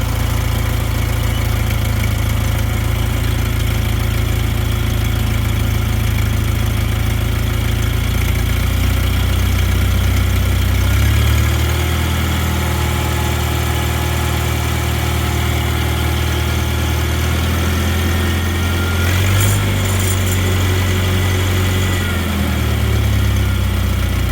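A small tractor engine idles steadily after a choked start, a loud, close, continuous mechanical rumble that shifts slightly in pitch partway through, with no voices.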